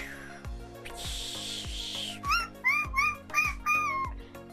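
A voice imitates a seagull with a few rising, squealing cries over a background of rhythmic music.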